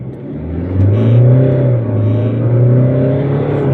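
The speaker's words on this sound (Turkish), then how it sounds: "Şurada bir 0-100 deneyelim." A BMW 520d F10 diesel sedan with a 2.0 engine, 184 hp, in sport mode on winter tyres, accelerating hard from standstill; a loud, steady engine drone rises in pitch and holds through the run, heard from inside the cabin with no talking.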